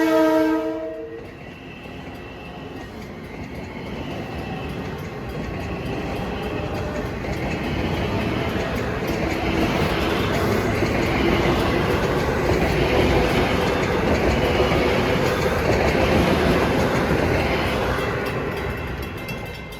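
A Long Island Rail Road Ronkonkoma Line train bound from Penn Station to Ronkonkoma passes a grade crossing: a brief horn blast at the start, then a long rising and falling rumble with clattering wheels.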